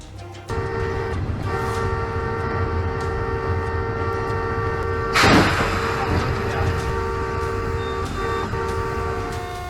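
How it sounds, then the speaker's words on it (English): A train runs past with a sustained, horn-like harmonic drone over low rumbling, broken midway by a brief, loud, broadband burst, then continuing steadily. "Another cow collision with a train"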